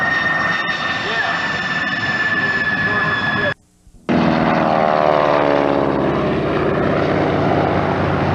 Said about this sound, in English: Airplane stable, isn't it?